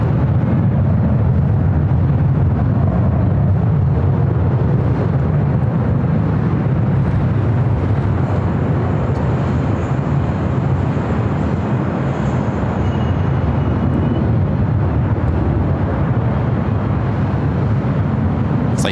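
A Virgin Atlantic Airbus A350 arrives at LAX, its engines giving a loud, steady low roar that holds close and constant for the whole stretch, with no voices.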